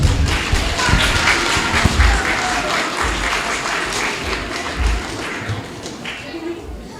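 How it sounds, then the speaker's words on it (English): An audience applauds eighth graders at a school play, broad steady clapping with a few thumps, voices murmuring underneath. "Give 8th graders a big round of applause"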